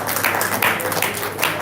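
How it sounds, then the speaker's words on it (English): An audience claps together in a hall at a live company event, a dense, even patter of many hands held at moderate loudness for a brief stretch with no voices over it. "Let's clap for them"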